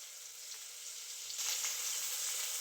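Onion and tomato with salt sautéing in a pan for chicken gravy, giving a steady close sizzle that swells slightly louder partway through, with faint stirring scrapes and no talk.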